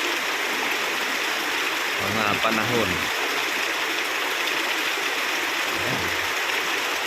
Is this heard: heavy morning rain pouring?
yes